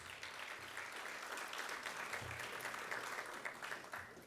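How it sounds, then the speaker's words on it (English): Audience applause for the sponsors at a school district event, a steady, moderately faint wash of clapping that runs the whole time with no talk over it. "Please give them a round of applause."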